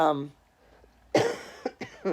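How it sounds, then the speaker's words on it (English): A single harsh cough bursts out after a brief hum and pause, followed by short breathy vocal sounds. "see, the cough."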